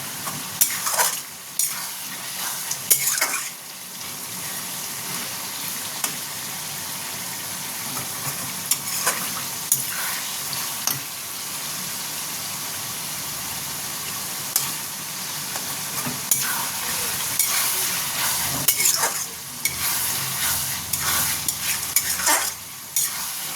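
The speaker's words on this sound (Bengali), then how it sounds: "এইভাবে একটু ভালো মতন কষতে হবে, একটু ধৈর্য ধরে কষতে হবে।" Chicken keema being stir-fried in a pan, a steady sizzle with repeated scraping stirs of a spatula, close and continuous.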